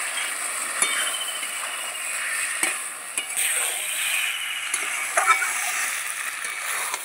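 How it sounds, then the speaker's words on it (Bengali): Soaked Gobindobhog rice is sautéed in a pan, producing a loud, even sizzle with intermittent scraping strokes of the spatula over about seven seconds, no speech. "চাল দিয়ে একটু কষিয়ে নেব।"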